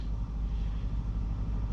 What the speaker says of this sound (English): And the engine kicked on again here with 2 kilometers left.